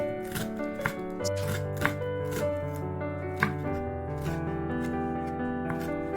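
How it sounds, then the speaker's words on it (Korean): A knife slicing green onions for a Korean side dish gives a series of sharp, irregular taps on a cutting board, heard beneath steady background music. "파를 썰고"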